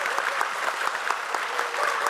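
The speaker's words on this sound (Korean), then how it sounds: "여러분 그렇게 생각하시면 크게 우리 안 의원님께 박수 한번 보내주십시오" Crowd applause for a lawmaker at a Korean panel discussion on young adults with borderline intellectual functioning, dense continuous clapping from many hands at steady volume, filling the room without any talking.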